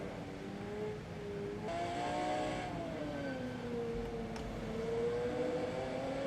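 A quick race car in the Assetto Corsa racing game on the Brands Hatch Indy circuit, its engine droning steadily and rising and falling in pitch as it revs, heard alone at moderate volume.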